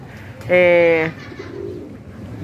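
A single close, loud coo from a flying pigeon near a roof, a short harmonic call lasting about half a second, followed by quiet outdoor ambience.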